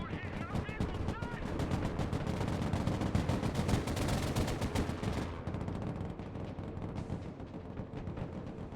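Dense, continuous gunfire and booming artillery rumble through a modern real-time strategy game battle, rapid cracks layered over heavy low blasts that ease slightly near the end.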